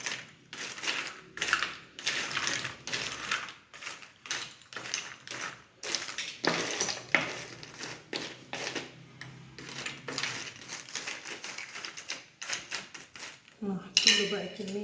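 Unshelled peanuts are stirred on a metal oven tray, giving dry rattling scrapes and clattering shell clicks in uneven bursts close by, ending with a short sharper clatter.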